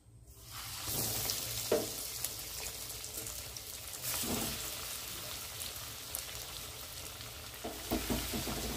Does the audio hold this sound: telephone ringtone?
no